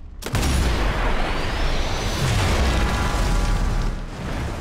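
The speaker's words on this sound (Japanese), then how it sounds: "燃料タンクを狙えば即に爆発するけど、グリルを狙うと爆発するまで間がある" A truck blows up in the video game Sniper Elite 4: a sudden loud boom that turns into a long, roaring rumble of the blast, lasting several seconds without any talk.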